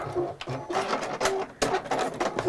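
A sewing machine with a walking foot attachment runs in fast bursts, its steady mechanical whir loud and close, pausing briefly a couple of times before starting up again.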